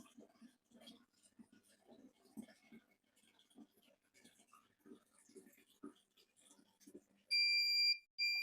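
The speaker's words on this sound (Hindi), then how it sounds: "ड्राई रन एक्टिवेट हो चुका है और बजर साउंड करने लगा है" Dry-run alarm buzzer of an imagine IT54WLCW WiFi water level controller, sounding loud, steady, high-pitched beeps near the end, after a stretch of faint background rustling and movement.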